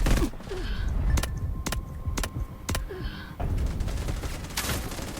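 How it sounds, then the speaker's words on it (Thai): Gunfire in the mobile shooter Delta Force Mobile: several sharp, loud shots spaced irregularly, with a quick burst near the end, set against busy in-game background noise. "มายิงก้นเราเหรอ ยิงมั่ว"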